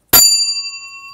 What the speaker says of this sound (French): La cloche avec son marteau